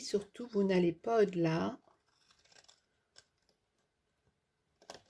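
Scissors snip through paper in short, faint, quiet cuts after someone speaks briefly, with a couple more clips at the end.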